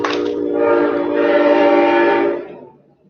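A train rolls past with a long, loud horn blast that holds steady for about two seconds. It then fades out as the train moves on, heard close by with no talking.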